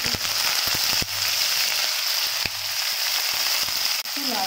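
Onions hitting hot oil with cardamom and cinnamon, a loud dense sizzle with sharp crackles and a few clicks of a utensil against the pan.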